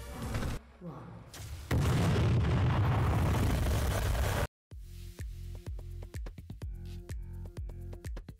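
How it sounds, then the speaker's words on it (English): An exploding tower in the video game DOOM, a loud sustained blast roaring for several seconds, followed after a sudden cut by rhythmic game sounds and music. "just in time for the tower to explode and send us into hell"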